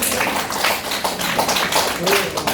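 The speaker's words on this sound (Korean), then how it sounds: "이분들에서 우리 박수 한번 치자" Clapping from a church gathering's audience, a dense steady patter of many hands that carries on throughout, with a voice talking over it.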